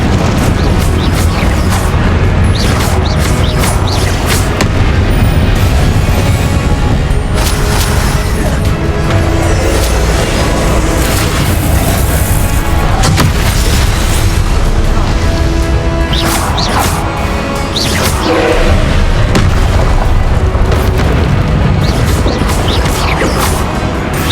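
Confringo explosion spells in Hogwarts Legacy combat go off as loud, dense booms, crashes and impacts, repeating over a sustained noisy battle mix.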